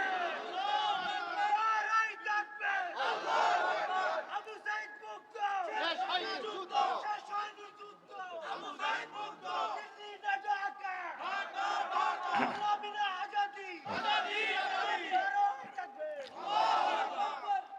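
A large crowd shouts takbir chants in loud unison bursts, each roar swelling and fading with brief gaps between, at a political religious gathering.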